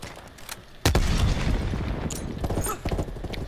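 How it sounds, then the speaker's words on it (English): A grenade blast in the shooter game Call of Duty: Black Ops Cold War, one sharp, loud boom followed by a rumbling tail, with further muffled impacts and game noise behind it. "Took a grenade over there."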